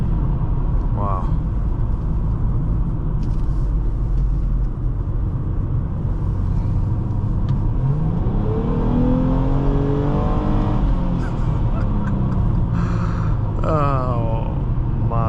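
A 2011 Nissan Maxima SV engine hums steadily from inside the cabin, then rises in pitch as the car accelerates partway through, with someone talking over it.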